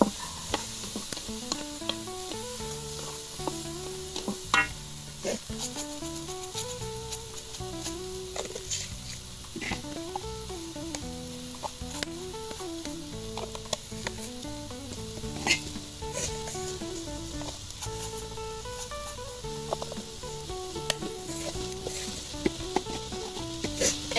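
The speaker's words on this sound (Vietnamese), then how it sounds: "bây giờ em sẽ lên chảo em xào nhân luôn" Filling for clam bánh xèo is stir-fried in a pan, a steady close sizzle with scraping and stirring clatter throughout while background music plays.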